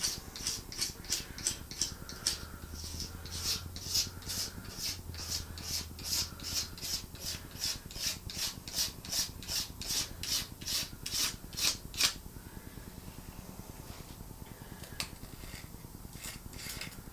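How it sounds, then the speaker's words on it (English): A razor blade scrapes grime off the surface of a junkyard LS engine in a rapid, rhythmic series of close, rasping strokes that keep a steady pace, then trail off into lighter, scattered scrapes. "We're going to give this surface a good scraping."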